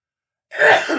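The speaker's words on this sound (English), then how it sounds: "here's another sneeze" A single short sneeze bursts out after half a second of silence, close and fairly loud.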